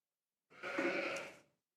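A Poll Dorset ewe at a championship sheep show gives a single loud, wavering bleat about a second long, close by and with no talk over it.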